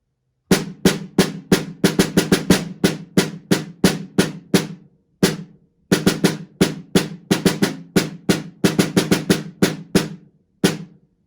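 A snare drum plays crisp, rapid strokes without flams or rolls, in rhythmic bursts with short pauses between phrases, close and loud, with no voices.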